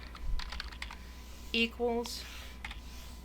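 Computer keyboard keys clicked in a few quick bursts during statistics software work, faint and mixed with a voice talking.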